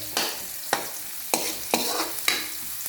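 Garlic and food sauté in a pan for a radish stir-fry, stirred in about five sharp scraping strokes at a steady rhythm over a continuous close sizzle.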